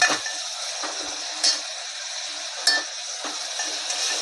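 Tomatoes and onion with salt cook in a pan, giving a soft steady sizzle with a few sharp clinks of a utensil stirring against the pan.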